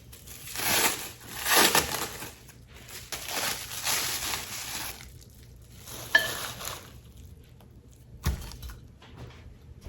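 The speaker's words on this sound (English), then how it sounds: "So we'll just unwrap these and put them in." Frozen pork is unwrapped for a slow cooker, with bursts of plastic crinkling and crumpling close by, a short pause, one soft clatter, then a dull thud.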